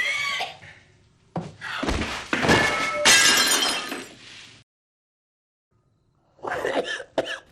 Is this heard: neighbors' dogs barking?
no